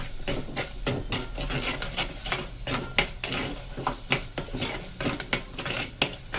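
Chili and turmeric powder fry in oil in a clay pot, with a soft steady sizzle broken by repeated scraping, stirring knocks against the pot, close and moderately quiet.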